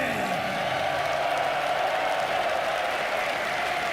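A large esports crowd at The International Dota 2 event applauds Boxy and Team Liquid, a steady, dense wash of clapping and cheering that holds evenly throughout without letting up.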